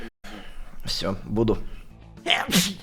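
A man sneezes once, sharply and close, among short bursts of Russian speech from the same nearby voice, with his talk continuing after the sneeze.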